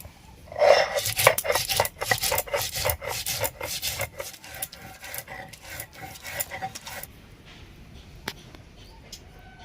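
Poppy seeds, rice and mustard are ground together into a paste on a grinding stone in a village kitchen, a steady rhythmic scraping and rubbing that starts strong and fades to quieter strokes over several seconds.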